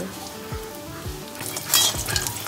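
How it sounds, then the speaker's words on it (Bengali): Dried lentil dumplings (bori) lightly frying in oil, a steady close sizzle broken by a few soft thumps and a brief metallic clink of utensil against pan. "এবার ডালের বড়িগুলোকে ভালো করে ভেজে নেব হালকা করে"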